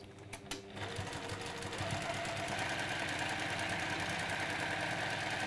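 A sewing machine stitches over the top of a seam, running with a fast, steady mechanical chatter that starts after a few brief clicks and continues loud and close to the end, with no talking.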